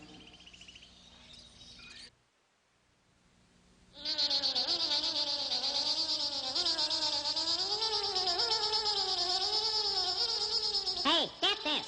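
A mosquito sound effect in a comedy television show, a thin, loud, wavering whine that holds steady for several seconds after a brief lull.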